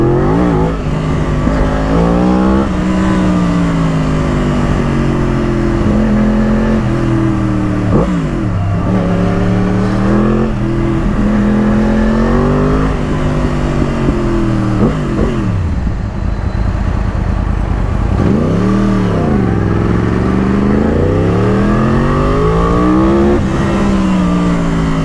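A Yamaha YZF R1 sport motorcycle engine revs loudly and continuously while being ridden, its pitch rising and falling through repeated throttle surges and gear changes, close and steady with wind noise and no talk.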